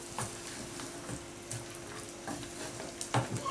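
Turkey pepper soup with scent leaf gets stirred in a pot, a spoon scraping and clinking softly in uneven strokes over a faint, steady simmering hiss; quiet and close, with no talk.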